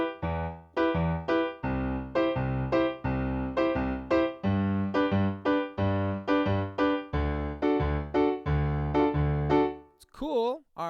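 Piano playing a reggaeton rhythm, left hand low chords as the kick and right hand higher chords as the snare, in a steady, choppy, repeating pattern of short detached hits, close and clear, ending with a brief voice.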